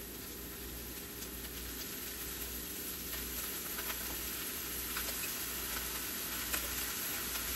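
Ground beef sautéing in oil with garlic and onion for beef giniling, a steady, fairly faint sizzle with soft crackles and occasional stirring, close by and without talk.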